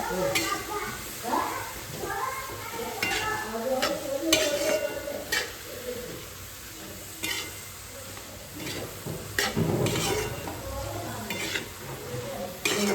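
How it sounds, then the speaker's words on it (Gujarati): Spice tempering sizzles in a hot pan in a home kitchen, crackling on and off amid stirring and clinks of utensils while people talk over it. "વઘાર દીધું."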